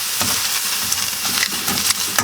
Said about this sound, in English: I'm just going to move it around. Try to get it as translucent as possible.